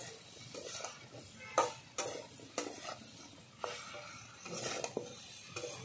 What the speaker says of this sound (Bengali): ভালো করে আমি একই সঙ্গে লাল করে ভেজে নেব ভেন্ডি প্রথমে।